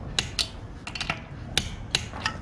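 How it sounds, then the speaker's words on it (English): A torque wrench tightens the lug nuts on a car wheel during a tire rotation. Several sharp metallic clicks and knocks come at irregular intervals, close and fairly crisp, with no talking. "Make sure your torque wrench is on tighten, set to the proper spec."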